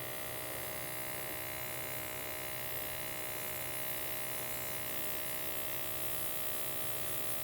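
An airbrush spraying clear-containing paint onto a car part, a steady faint hiss with a constant buzzing tone, unbroken from start to finish.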